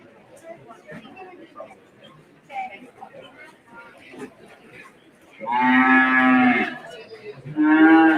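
Dairy heifers at a 4-H county fair cattle show let out two long, loud moos near the end, after a stretch of quieter crowd chatter and talking.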